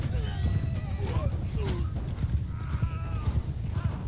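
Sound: cavalry horses galloping in the video game Bannerlord

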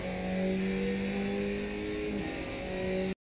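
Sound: Skip Barber race car engine accelerating uphill, iRacing video game

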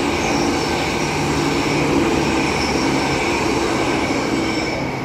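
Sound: EMU 107 commuter train passing on Eddystone Avenue

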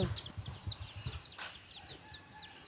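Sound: ducklings peeping

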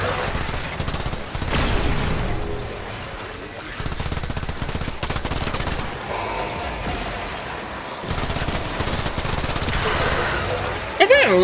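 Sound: gunfire in the video game Warframe

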